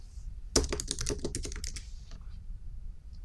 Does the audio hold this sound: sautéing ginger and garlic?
no